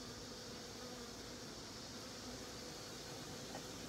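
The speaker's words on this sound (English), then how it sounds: "Certainly are a lot of bees." Honey bees in an opened hive make a steady, dense buzzing drone that holds at an even level throughout, close to the listener.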